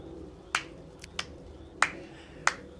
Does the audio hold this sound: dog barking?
no